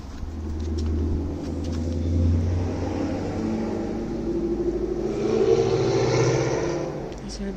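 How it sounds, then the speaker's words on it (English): Cars roll slowly past a railroad bridge at night, a low steady engine rumble that swells as the vehicles pass close by and then fades. "It's gonna be creepy because people are driving by so slow"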